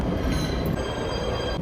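A PATH train pulls out of a station with a loud, continuous rumble, rolling wheel noise and a faint high squeal filling the whole moment.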